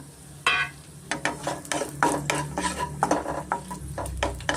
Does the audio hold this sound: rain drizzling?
no